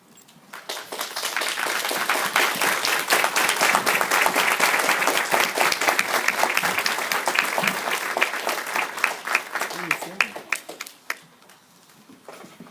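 Church congregation applauding after a Bible reading, a dense, sustained burst of many hands clapping that swells quickly, holds steady, then thins out to a few scattered claps at the end.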